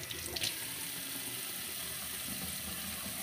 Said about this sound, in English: with the handheld sprayer, you want to first get the cold water out of it.